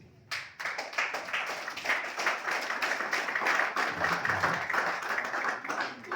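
Sustained audience applause at a church wedding gathering, a dense crowd of hands clapping steadily and fairly loudly throughout, with no speech over it.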